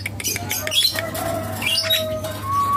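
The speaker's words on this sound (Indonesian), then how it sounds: "Ternyata burung jalak kebo ini masih takut ya sobat ya" A young Javan myna gives scattered chirps and short squawky calls close by, over faint background noise.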